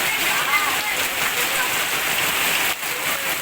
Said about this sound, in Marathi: एवढा जोरात पाऊस चालू आहे बघू शकता